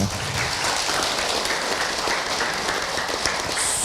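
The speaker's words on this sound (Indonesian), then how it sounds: "Tepuk tangan buat kita semua." An audience at an Indonesian religious talk claps in steady, dense applause that fills the whole short stretch at a moderate level.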